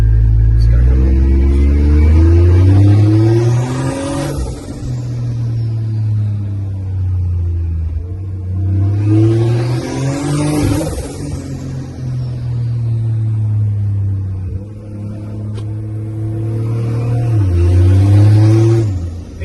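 Nissan GU Patrol with a turbocharged TB45 petrol engine pulling hard in first gear: loud, close engine drone rising in pitch through three repeated surges, each ending in a turbo whoosh or blow-off hiss before the revs drop back.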